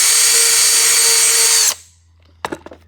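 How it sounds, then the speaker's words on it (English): A power drill bores rivet holes through sheet metal on a NASCAR Buick quarter panel, one steady loud whine lasting under two seconds and then cutting off, followed by a few sharp clicks and knocks. "we're just simply going to drill a couple of rivets and rivet it straight down"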